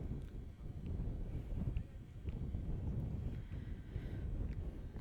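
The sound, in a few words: wind blowing at a baseball field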